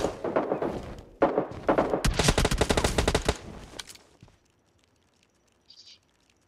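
Bursts of rapid gunfire from a PUBG Mobile match, loud and close for about four seconds, followed by quiet with a faint brief sound near the end.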